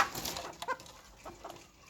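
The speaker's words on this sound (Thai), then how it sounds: "อันนี้คือ ไก่ตัวเมียนะครับ" A hen clucks in a series of soft, irregular calls at moderate distance, with scattered short fowl sounds in the background and no talk.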